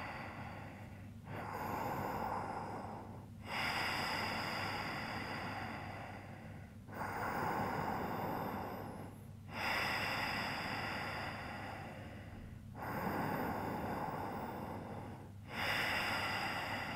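Slow, deep breaths taken during a seated stretch, several long inhales and exhales in a steady rhythm, close and alone with no talking.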